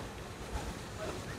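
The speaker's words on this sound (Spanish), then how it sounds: "escuchando el sonido del agua" Water moving in a New York City park, a steady broadband wash close to the microphone, continuous and fairly faint with wind noise mixed in and no talking.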